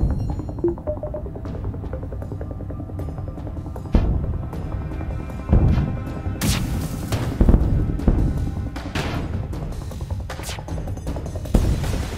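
Starship weapons in FTL auto-fire against an enemy ship, sending out a handful of punchy, loud shots and impacts at irregular intervals over a low, humming electronic game backdrop.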